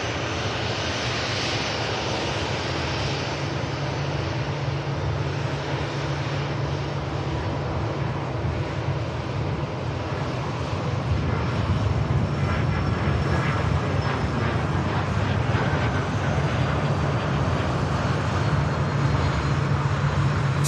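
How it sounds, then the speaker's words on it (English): A Qatar Airways Airbus A350 from Doha arrives at Manchester Airport, its engines a steady, broad roar that holds loud and continuous throughout, with a slight swell toward the end. "Qatar A350 from Doha is the next aircraft to arrive"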